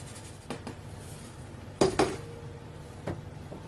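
Chocolate sponge cake batter with flour and cocoa being stirred, a utensil clinking and scraping against the bowl in a few distinct knocks, with a louder double clink midway, fairly close and without any talking.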